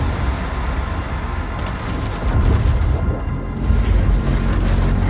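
BFG 10,000 firing in DOOM Eternal, a heavy roaring rumble with deep booming surges and a hissing energy layer, loud and sustained.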